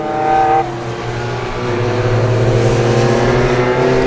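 Classic V8-powered Ferrari race cars racing at Oulton Park, a loud continuous roar of several engines passing close by with layered tones and no talk.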